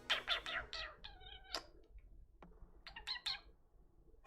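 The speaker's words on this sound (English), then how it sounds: "You're a nice kitty." A house cat meows repeatedly and quite close, giving a run of short calls, then a pause, then a few more meows, all fairly faint and with no talk.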